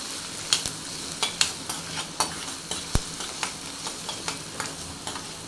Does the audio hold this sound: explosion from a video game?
no